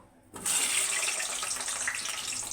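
Potatoes, tomatoes and onions drop into hot oil for aloo dum; after a short quiet moment, a sudden loud hissing sizzle bursts up and keeps crackling steadily.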